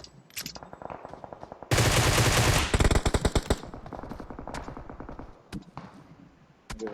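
Automatic gunfire from a PUBG match: a loud, dense burst of rapid shots lasting about a second, followed by a quicker rattling string of shots, with scattered single cracks and faint game ambience around them.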